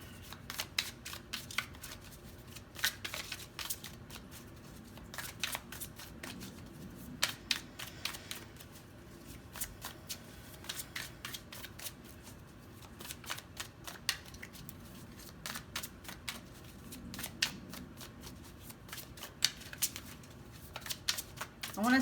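Tarot cards shuffled and drawn for a pick-a-card reading, a steady run of soft, quick riffling flicks and snaps close by, repeating in bursts, with a quiet voice talking at times over the faint card sounds.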